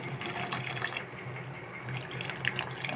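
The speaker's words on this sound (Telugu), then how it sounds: "ఇలా ఉడుకుతూ ఉండగానే కొంచెం చింతపండు పులుసు పోసుకోవాలి." Tamarind juice poured into a simmering prawn curry, a steady liquid gush and bubbling sizzle lasting a few seconds, fairly close and continuous.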